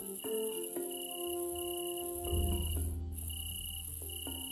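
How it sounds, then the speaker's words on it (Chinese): In the video game Gladiator Dream Factory, insects chirp in a constant high, shrill drone under soft, sustained game music tones, with no voices. "这个虫鸣也太大声了。"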